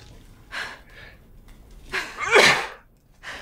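A person sneezes loudly once at close range, with a sharp burst preceded by short breathy intakes and followed by a quieter breath, during a Resident Evil Village: Shadows of Rose play session.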